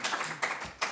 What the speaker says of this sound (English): let's give the man a round of applause, shall we, for that, first of all